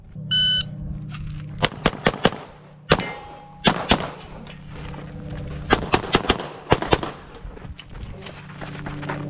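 A Beretta 92X Performance pistol with a Sig Romeo 3 XL optic fires in a Carry Optics competition stage, with loud, sharp shots in quick clusters and pairs outdoors, preceded by a shot-timer beep.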